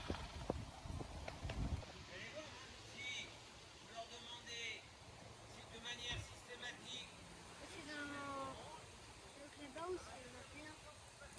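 Hooves of a mare clip-clopping during a jumping and dressage lesson in a riding arena, soft and fairly distant, with voices talking quietly at times.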